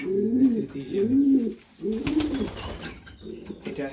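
A female racing pigeon coos in a loft, several throaty rolling coos in a steady rhythm, close and clear, with a short pause and some rustling before the cooing resumes.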